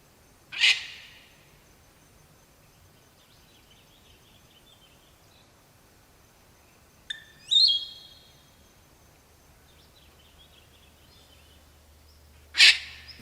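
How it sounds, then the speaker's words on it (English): Palm cockatoo giving three sharp, piercing calls spaced several seconds apart, loud and close against a quiet background with no talking. "Few are as spectacular as the palm cockatoo."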